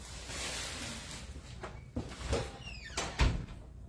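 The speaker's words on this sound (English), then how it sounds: "I'll close that door." An indoor door pushed shut in a barn-style shop, a few soft knocks and scrapes ending in a firmer thud near the end, close by with no one talking.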